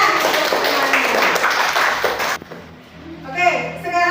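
Students clap in a classroom, a burst of close hand clapping that stops abruptly after about two seconds, followed by a voice speaking.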